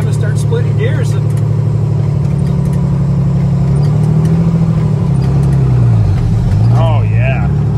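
International truck with a Detroit Diesel 6-71 turbo engine driving in low range and shifting through gears, a steady loud diesel drone with pitch rising and dropping between shifts, with people talking over it.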